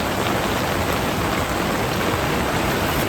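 Steady rain falling near the Ibo River, a dense, even hiss of drops on water and surfaces that stays close and constant throughout, with no voices.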